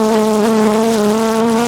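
Honeybees swarm around an opened hive colony, a steady close buzzing drone that holds unbroken throughout and stays loud with no voices.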